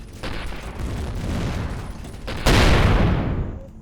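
Spaceship weapons firing in the space game Avorion, a loud burst of rapid booming shots that rumbles on, then a second, heavier blast that fades away, with no voices.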